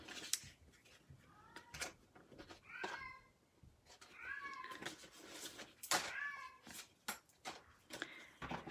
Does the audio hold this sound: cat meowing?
yes